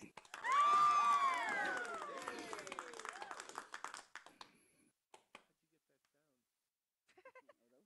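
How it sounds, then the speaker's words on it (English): A canned applause sound effect in a VR talk show opens with a rising whooping cheer over a burst of crowd clapping, then thins to scattered claps and fades to near silence. "Who did the applause thingy?"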